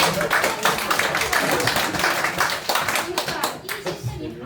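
An audience at a Q&A event claps in a brisk, fairly close round of applause lasting several seconds, with a voice speaking over it.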